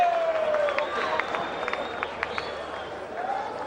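Boxing arena crowd at a Roberto Duran fight keeps up a steady cheering roar with scattered claps, while a commentator speaks over it.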